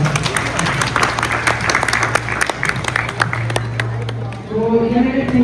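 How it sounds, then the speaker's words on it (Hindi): Audience at a live oil painting demonstration at a Delhi college of art carnival claps for the seated model, brisk scattered applause over a steady low hum, fading as a voice begins speaking near the end. "उनके लिए बस एक बार जोरदार तालियां हो जाए"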